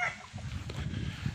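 A Raptor Sweater gamefowl rooster, a straight-combed bird, gives low, soft clucks against steady farmyard background noise, with a few brief calls bunched toward the end.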